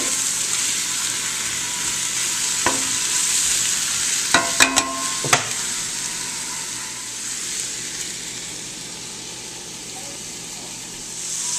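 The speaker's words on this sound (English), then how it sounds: "So what I will do is stir fry my vegetables and cook my lentils" Zucchini, mushrooms and spinach stir-frying in a pot give a steady soft sizzle and hiss, broken near the middle by a few sharp clinks and scrapes of stirring, with no talking.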